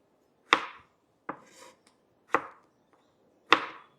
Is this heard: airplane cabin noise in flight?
no